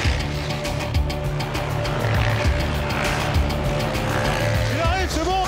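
Race cars with engines roaring loudly under excited commentary, one car running off the track with rising whines and tire squeal toward the end over steady crowd and engine noise.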